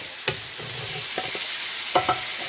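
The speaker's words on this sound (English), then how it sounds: "we're going to flatten out the steak and get a good sear on it" Sausage and chuck steak sear in a pan for award-winning chili, a steady sizzle with a few sharp clicks and scrapes of a utensil against the pan.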